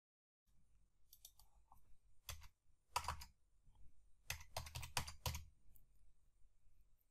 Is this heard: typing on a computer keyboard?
yes